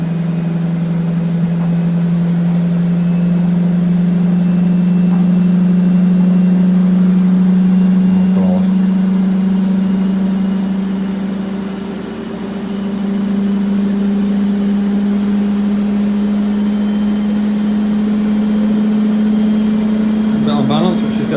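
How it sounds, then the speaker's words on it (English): A Miele W562 washing machine ramps up to its final spin, a loud, steady motor drone that climbs gradually in pitch and holds for a long stretch, dipping briefly midway. "Miele's going for a final ramp up."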